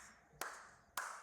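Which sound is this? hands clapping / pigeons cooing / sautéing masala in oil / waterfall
hands clapping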